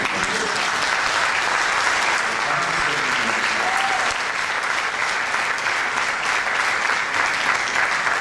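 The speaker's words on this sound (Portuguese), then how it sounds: "Vamos dar uma salva de palmas a esse Deus." Applause from a church congregation during a Sunday evening service, a dense, steady wash of many hands clapping that holds loud and continuous throughout, with faint voices mixed beneath.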